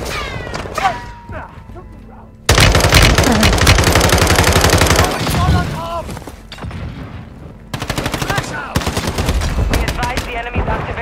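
Automatic AK-47 fire in Warzone 2.0 Resurgence mode, loud rapid bursts of gunshots in two long stretches with a brief pause, near and dominant, with some game voices in the background.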